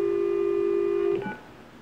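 A telephone on a Panasonic TES 824 exchange line gives a single steady tone for about a second before it cuts off, leaving faint hiss.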